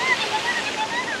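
Fountain water splashing in Rome, a loud continuous rushing and spattering wash close by with no break.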